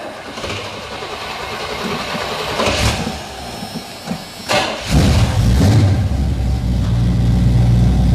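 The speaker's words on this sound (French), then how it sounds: "il a un bon 350 des familles qui respire bien" A Chevrolet-style 350 V8 fitted with a new, fully rebuilt carburetor and stainless exhaust line fires up with a thump, then settles into a loud, close, rumbling idle with a deep steady drone.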